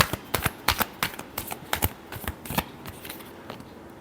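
Tarot cards riffle and snap through a deck in a quick burst of crisp, papery flutters, close and fairly soft, with no voices.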